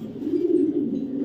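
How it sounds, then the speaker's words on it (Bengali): A tiger saddle female pigeon gives a single soft, low cooing call, close and clear, lasting about a second. "টাইগার শ্যাডেল মাদি কবুতর"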